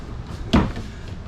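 A single sharp thud of a cabinet door under the kitchen sink of a 2021 Forest River Heritage Glen 3560QB RV, fitted with slam latches, close and distinct against quiet room tone.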